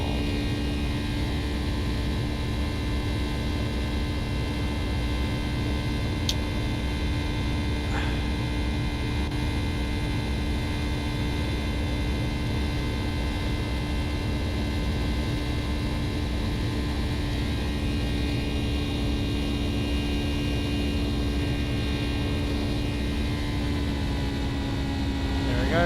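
Boeing 757 jet engines at the top of climb in the X-Plane 12 flight simulator give a steady, unbroken cabin drone with a constant low hum and whine that holds level throughout.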